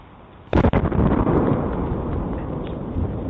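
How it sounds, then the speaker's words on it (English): A ground explosion hits with a sudden loud blast, then a deep rumbling roar that lingers and slowly fades. "That's a ground explosion."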